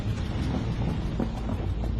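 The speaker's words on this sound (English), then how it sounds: "A severe storm must pass before the pilots can depart." A severe thunderstorm heard from inside a grounded passenger aircraft waiting to depart, a faint low continuous rumble with rain-like noise and no talk.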